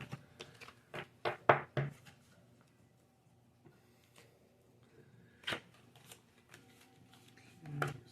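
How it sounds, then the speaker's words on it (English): Playing cards are gathered up from a table in quick papery slaps and shuffles, a cluster of crisp close hits at the start, a lone snap midway and a soft swipe at the end, with quiet pauses between. "let me just kind of clear some of these cards up real quick"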